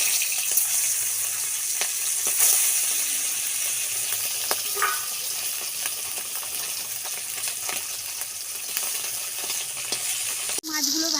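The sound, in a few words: fish frying in a pan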